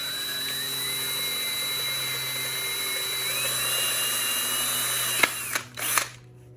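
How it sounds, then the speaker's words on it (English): A power drill whines steadily up close for several seconds as it bores through a plastic weight bench leg pad cap, then stops with a couple of short clicks and bursts. "So first step's to drill a hole through this."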